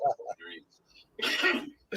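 A few voiced bursts of coughing and throat clearing, close up, with a short pause between them and another brief burst at the end.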